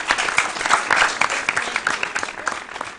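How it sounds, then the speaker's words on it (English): A crowd applauds, a dense burst of many hands clapping at once, lively and fairly close, fading slightly toward the end. "Another round of applause, please."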